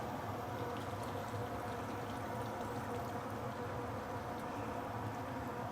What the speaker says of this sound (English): we can now add in some water here.